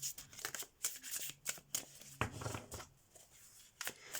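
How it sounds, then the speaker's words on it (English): Tarot cards shuffled by hand in short, crisp riffling bursts with brief pauses between them, close and fairly quiet, with no talking. "When I'm shuffling the cards"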